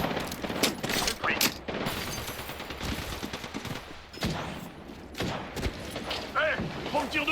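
Bursts of gunfire aimed at the player crackle through a video game firefight, rapid volleys and single shots mixed with mechanical clatter, moderately loud and steady throughout.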